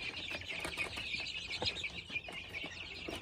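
Young chickens in a small farm flock peep in rapid, high chirps with occasional soft clucks, a busy continuous chorus heard fairly close but at low overall volume, with no talking.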